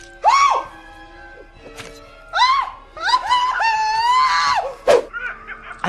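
Piercing screams in a horror film, several loud, rising and wavering shrieks in bursts separated by short pauses, up close and alone.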